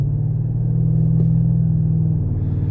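2021 Audi RS7 engine held at steady revs during launch control with the brake fully applied, a deep continuous rumble close by, without speech.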